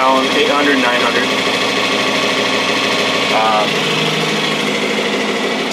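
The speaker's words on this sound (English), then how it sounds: "this tractor idles around 800, 900" A John Deere 4020 tractor engine idles steadily at close range around 800 to 900 rpm, a constant low hum with some higher mechanical whine throughout.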